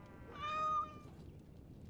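Sir Pounce-a-lot, a cat in the video game Dragon Age: Origins - Awakening, gives a single clear meow lasting under a second, rising and holding before fading, over a quiet game background.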